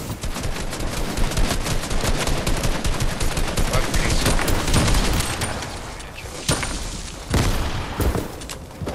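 A gun in a video game fires rapid automatic bursts, loud and close, rattling almost continuously before breaking into a few separate volleys near the end.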